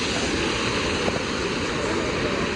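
Cool water rushes steadily over a small waterfall where people are bathing, on a coastal stretch near Ganpatipule; a broad, continuous wash of noise holds unbroken for the whole clip with no voices.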